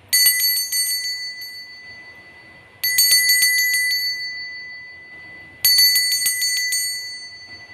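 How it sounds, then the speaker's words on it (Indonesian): Bright metallic bell strikes ring out in three separate bursts a few seconds apart, each burst made of quick repeated dings that fade into near silence before the next. "Kita akan memulai dengan ditandai lonceng berbunyi."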